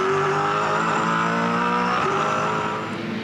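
V8 Supercars racing at Eastern Creek Raceway, a loud, sustained engine roar with layered harmonic whine that holds steady before easing slightly near the end.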